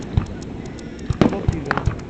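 Fourth of July fireworks in Vineland, New Jersey, a scatter of sharp pops and crackling bursts of varying loudness at irregular intervals, fairly distant, under a murmur of outdoor voices.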